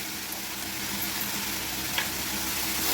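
Steady, even sizzling of curry leaves, ginger and chopped green chillies sautéing in hot oil in a pan, close and continuous, with no voices.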